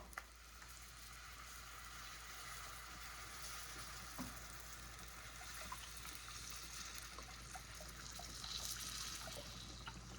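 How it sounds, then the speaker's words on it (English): Beef broth is poured into a pan of cooked flour, giving a faint, steady hiss and trickle of liquid with light sizzling crackle, low in level and continuous throughout. "Now we're going to add our beef broth."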